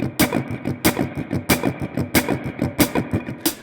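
Guitar strumming with sharply accented downbeats: a steady run of strokes where every fourth hit stands out louder and brighter, played up close with no voice.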